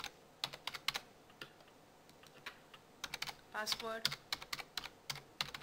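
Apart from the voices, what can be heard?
typing on a computer keyboard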